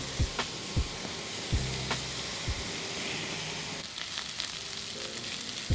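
Onions and jalapenos sizzle steadily in a pan as they cook down, a continuous frying crackle with a few sharp stirring knocks and scrapes near the start.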